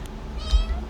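A single short cat meow in a video game, brief and fairly clear over a low background rumble.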